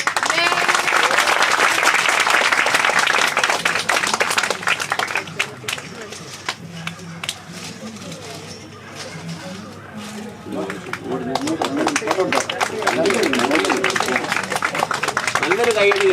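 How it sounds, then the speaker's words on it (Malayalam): A children's audience at the Maramon Convention children's meeting claps for a book release, loud sustained applause that fades to a lighter patter midway and swells again. "നല്ലൊരു കൈയടി കഴിച്ചു."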